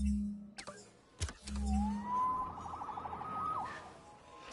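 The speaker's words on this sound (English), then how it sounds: "Saved by the siren." A wailing emergency siren rises and oscillates after some low rumbling thumps, sounding fairly clear against background noise for a few seconds.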